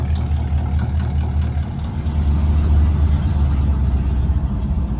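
A squarebody truck's gasoline engine, converted back from propane, idles with a lopey cammed rumble, loud, close and steady throughout, with no talk over it.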